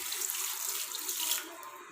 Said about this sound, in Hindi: 750 ml के करीब ये पानी मैंने इसमें डाल दिया है।